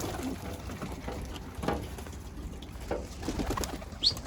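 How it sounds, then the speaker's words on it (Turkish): Domestic pigeons coo softly in low, throaty bursts, several calls close together over a quiet background with faint rustling. "Güzel kuşlar."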